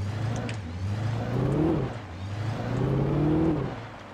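A car engine in the video game Alan Wake hums steadily and rises in pitch twice as it accelerates, then drops back, close and continuous, with no voices.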